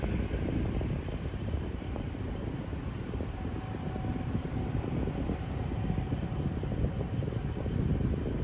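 A steady broadband roar of an airplane near San Diego's airport fills the scene, continuous and fairly loud with wind buffeting the microphone, and no voices present.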